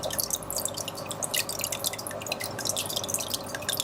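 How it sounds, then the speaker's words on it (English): An Oase BioStyle hang-on aquarium filter runs with a steady patter of dripping, splashing water, a fairly quiet, continuous trickle of rapid drops heard up close. "This is the sound of the Oase."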